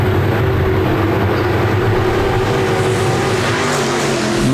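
RaceSaver sprint cars race at Park Jefferson Speedway, their engines making a loud, dense, continuous roar with layered tones that swell toward the end.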